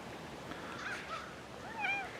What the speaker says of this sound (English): this is one of our cats over at the house